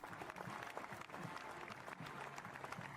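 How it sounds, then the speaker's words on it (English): A large crowd claps steadily through the three seconds, dense and continuous, heard from within the audience along a public funeral procession route for the Queen, with faint murmuring mixed in. "Stop clapping."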